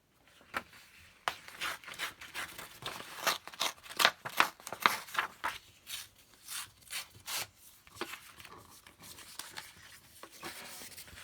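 A paper squirrel cutout for a junk journal being torn by hand, heard as a quiet series of short rips and rubbing scrapes in uneven bursts, with no talking.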